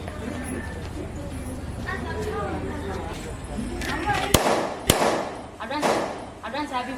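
Firecrackers go off outdoors as a birthday surprise, two sharp, loud cracks a moment apart, cutting through a steady bed of chatter and voices.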